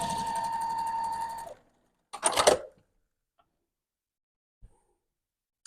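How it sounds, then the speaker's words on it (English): Sewing machine stitching pinned quilt pieces for a beginner stitch-and-flip quilt block, a steady fast mechanical whirr running for about a second and a half, then a second short burst after a pause, loud and close with no talk. "you can just whip them through the sewing machine"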